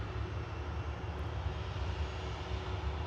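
Jet2 airliner departing Manchester Airport for Prague, its engines producing a steady broadband roar that holds at a constant level throughout, fairly distant and with no voices over it.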